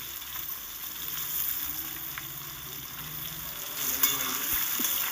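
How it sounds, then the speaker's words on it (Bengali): Diced potato cubes frying in hot oil for an okra curry, a steady close broadband sizzle throughout with a few soft stirring knocks and no voices. "দেখুন এবার এই তেলের মধ্যে আলুগুলোকে ভেজে নেব"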